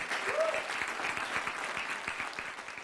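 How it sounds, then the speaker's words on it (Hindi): An audience applauds Piyush Joshi in a steady, moderately loud round of clapping that holds for about three seconds and eases slightly toward the end, with a brief voice faintly audible early on. "गाइस पीयूष जोशी, एक बार उसके लिए तालियां"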